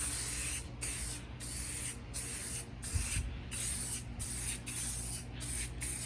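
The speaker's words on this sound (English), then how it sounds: "So here's the paint. I shook it up. I'm just going to fog this over and just get the rest of it." Spray paint fogged over a Walthers 2-stall model engine house, a steady close hiss broken by several brief pauses between bursts.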